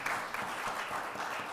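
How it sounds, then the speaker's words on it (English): An audience in a synagogue sanctuary at a Friday-evening Shabbat service claps steadily, a dense, sustained round of applause filling the whole moment. "just please a gracious round of applause for all of them if we can, okay?"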